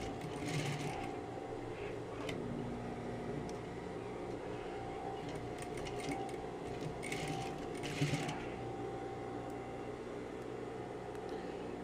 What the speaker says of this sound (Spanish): voy a bajar mi aguja justito aquí en el vértice. Bajo mi pie prensatelas y comienzo con un remate.